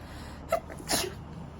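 A single quiet human sneeze, sharp and close, with a short intake of breath just before the burst and calm ambient quiet around it.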